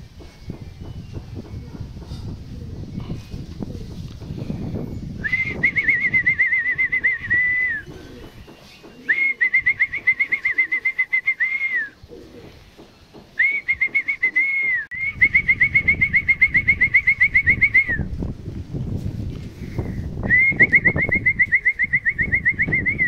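Racing pigeons arrive home at the family loft after an MMFC training toss from Quezon, with low cooing and fluttering under repeated steady, high whistle-like tones that start and stop.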